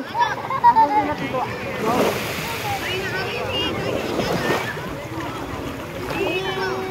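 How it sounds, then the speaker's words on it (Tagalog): Sea waves wash onto a beach at Baler, Aurora, with surf rushing and splashing under wind noise on the microphone while people call out and talk nearby. "Joanna, italikod mo lang si Uno kapag may alon"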